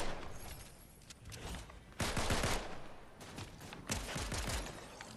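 A nail gun fires in Fortnite in rapid bursts of clattering shots, fairly faint, with two denser volleys separated by brief pauses.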